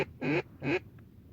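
Two short nasal duck quacks come a beat apart at a duck hunt, moderately close and fairly quiet, followed by a faint third call.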